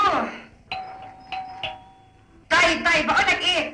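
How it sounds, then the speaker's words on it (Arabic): A doorbell rings several bright chimes in a home, spaced apart against a quiet background, and then a person starts talking. "جرس الباب بيضرب"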